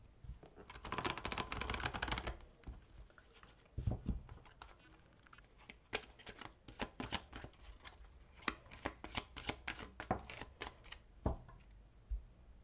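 Playing cards are shuffled and drawn for a cartomancy reading, a burst of riffling followed by a series of quiet, separate flicks and taps as cards are laid down, close and soft, with no talking.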